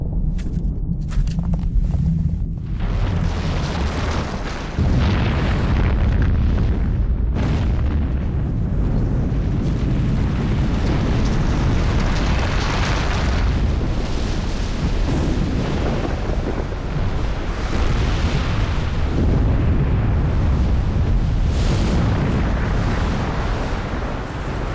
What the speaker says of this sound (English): a volcanic explosion has turned the land into a moonscape